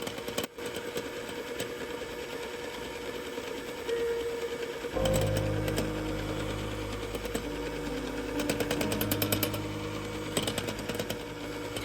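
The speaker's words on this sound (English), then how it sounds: "Continue beating on medium-high speed until you reach stiff peaks." Electric mixer whisking at medium-high speed for a chiffon cake, a steady buzzing motor whine that grows louder and fuller midway as the beaters work the bowl, continuous with no talk.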